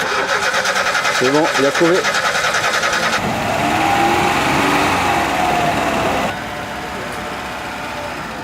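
A Lada car's engine being started by hot-wiring, cranking and catching into a loud close mechanical drone that rises and then settles, while someone speaks over it.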